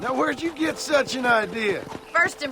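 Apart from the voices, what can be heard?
No distinct noise like a dog, phone or traffic.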